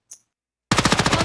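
A short click, then silence, then a fast run of loud, evenly spaced shots from a gun in Valorant, about ten reports hammering in quick rhythm close by.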